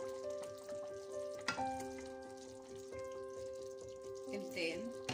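Chicken curry bubbles and sizzles steadily at a boil in a pot, with soft pops and a faint stirring clatter.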